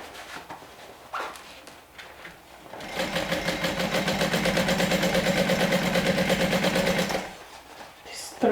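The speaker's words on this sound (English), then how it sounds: "we're sewing this with an 1/8 of an inch seam allowance" A sewing machine stitches a seam at an eighth-inch allowance, a fast rhythmic whirring run lasting about four seconds, close and clear, with a voice talking before it starts.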